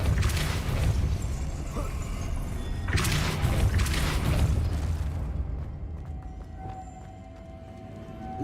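Depulso force spell cast in the video game Hogwarts Legacy: two sharp, loud bursting blasts a few seconds apart, then a quieter tail with a faint steady hum.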